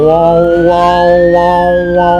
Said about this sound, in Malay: lebih kurang 2 minit bunyilah ambulan